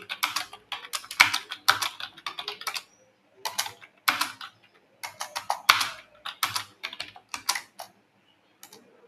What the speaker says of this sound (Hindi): चलिए इसे फटाफट से हम टाइप करते हैं